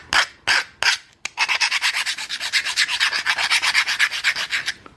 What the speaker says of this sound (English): This is where the file is best at, because all you gotta do is just file all that down.